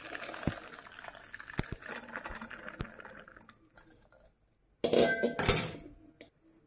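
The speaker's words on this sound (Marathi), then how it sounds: "त्यात पाणी काढून घेते हे।" Water from boiled peanuts being drained through a strainer set over a pot, a few clicks and drips, then a quieter pause followed by a sudden close rush of pouring water that trails away.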